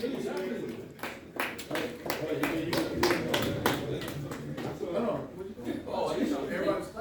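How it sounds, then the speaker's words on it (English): Scattered, rhythmic clapping from guests at a high school football team awards banquet, moderately close, mixed with chatter and voices across the room. "Everybody's clapping."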